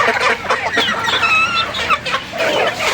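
Chickens around three months old cluck in a small backyard coop, several birds calling close by in a busy, overlapping stream with no talking.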